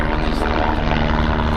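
A helicopter drones steadily throughout, a continuous rotor and engine rumble filling the background while people talk nearby.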